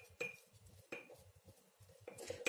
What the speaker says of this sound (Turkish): Tahta kaşığının sapıyla karıştırıyorum